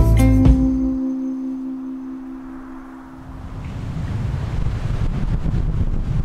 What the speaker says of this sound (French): Et puis le vent commence à arriver.